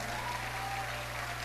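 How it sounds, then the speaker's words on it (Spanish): Applause from a church congregation during a Spanish-language sermon, a soft, even wash of many hands clapping at a distance over a constant low electrical hum, with no talk over it. "Dele un aplauso."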